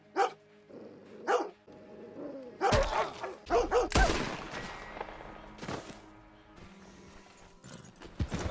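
A dog in Red Dead Redemption 2 barks and growls amid busy game sounds, with hoof clip-clops, a loud crack like a gunshot and scattered barks rising and falling over several seconds.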